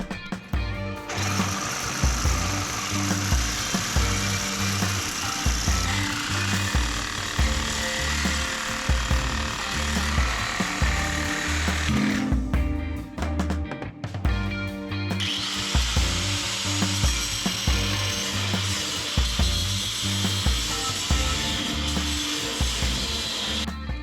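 A power tool cuts through the frame of a kit car during floor and frame removal, a loud sustained high whine in two long runs separated by a brief pause, with rhythmic low mechanical chatter underneath.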